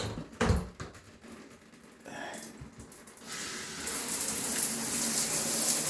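Water from a rotating shower head, starting with a few bumps and handling sounds, then a steady hissing spray that swells and keeps running loud and close to the end.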